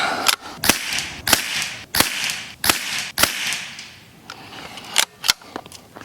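.22 Long Rifle gunshots from a Savage MK II rifle firing CCI match ammunition, a series of sharp, loud cracks spaced about half a second to a second apart, with a few fainter reports toward the end and no talking.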